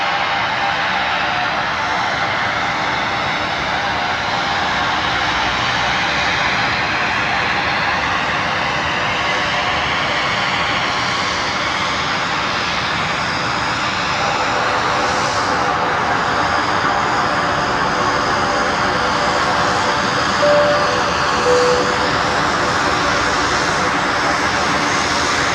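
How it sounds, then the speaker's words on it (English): An airliner arriving from Adelaide on the left runway at Brisbane Airport at night, a steady broad engine roar sustained throughout, loud and unbroken, with voices murmuring underneath. "next arrival is coming in on runway left from Adelaide"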